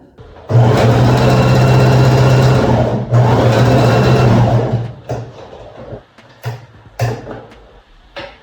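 A sewing machine stitches a zigzag seam on a patchwork garment in two loud, rapid mechanical bursts, each running a few seconds. Scattered clicks and handling knocks of fabric follow.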